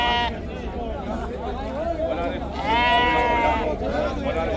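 Sheep bleat repeatedly at a busy Samarkand livestock market, their calls loud and close, rising over a steady hubbub of people chattering nearby.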